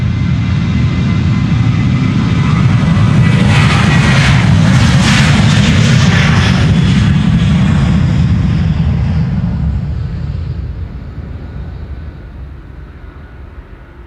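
Loud, roaring jet engines of a Boeing 747 building to full takeoff thrust on the Polderbaan runway 36L at Amsterdam Schiphol, a broad rumble and hiss that slowly fades as the aircraft moves away.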